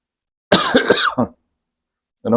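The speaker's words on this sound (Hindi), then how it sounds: "मुझे माफ करिए, मुझे खांसी हो रही है" A short burst of several rough coughs close to the mic, from a man sucking a toffee, followed by silence and the start of another cough.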